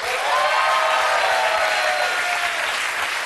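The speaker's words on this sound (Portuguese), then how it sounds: "Por favor, aplaudam o nosso especialista, Feijão!" A studio audience on a Brazilian TV comedy show breaks into dense, sustained applause, loud and close, lasting a few seconds with no one speaking.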